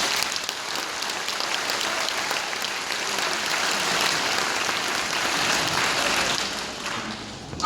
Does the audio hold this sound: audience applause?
yes